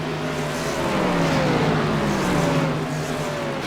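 A race car in an Xfinity Series race at Richmond roars past at speed, its engine note sustained and loud with a slight falling pitch as it crosses the start-finish line.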